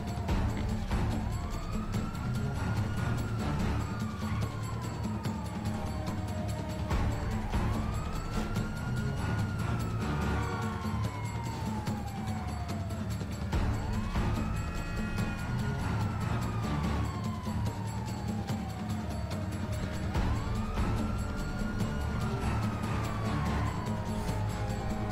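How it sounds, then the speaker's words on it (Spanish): A police car siren in a video game wails in repeated rising-and-falling sweeps, steady and prominent over a constant engine rumble, with no voices. "Otro coche, otra sirena, la escucho."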